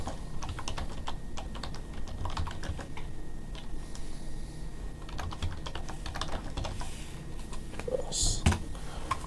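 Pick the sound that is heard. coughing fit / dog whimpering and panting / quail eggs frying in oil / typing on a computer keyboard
typing on a computer keyboard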